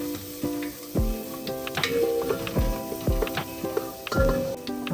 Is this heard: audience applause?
no